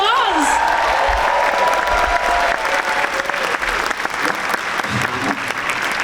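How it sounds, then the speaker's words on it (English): Convention crowd at a Star Trek panel at Megacon breaking into loud, sustained applause, a dense wash of clapping with a few cheers, lasting several seconds and continuing steadily. "One more round of applause."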